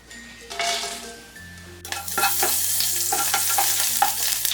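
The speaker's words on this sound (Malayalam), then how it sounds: "ഇതിലേക്ക് എടുത്തു വെച്ചിരിക്കുന്ന ഹോൾ സ്പൈസസ് ഇട്ട് കൊടുക്കാം" Whole spices dropped into hot sunflower oil for Arabic kabsa rice burst into a loud, steady sizzle, with a few spoon clinks and stirring scrapes against the pan.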